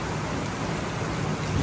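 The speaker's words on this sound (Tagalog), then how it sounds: "Lakas ng ulan." Heavy rain pours down steadily in a rural province, a dense, loud, continuous wash of drops with no voices over it.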